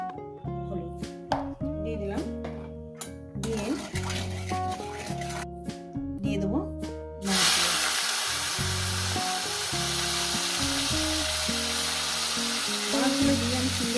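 Dried fish dropped into hot oil in a pan sets off a sudden, loud, hissing sizzle about halfway through that continues strongly to the end, with background music playing throughout.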